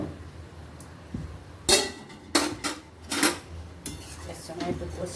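Boiled papaya and potato being tipped into a cooking pan, giving several sharp metallic clanks and scrapes of utensil on pan, spaced irregularly over a quiet room background.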